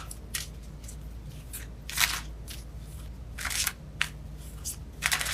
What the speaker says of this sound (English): I keep shuffling